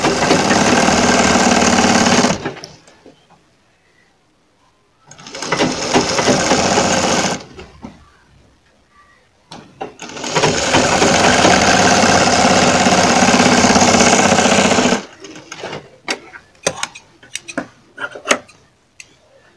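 A sewing machine stitches the neck of a boat-neck blouse in loud, steady whirring runs of several seconds, broken by quiet pauses, and ends with short stop-start bursts.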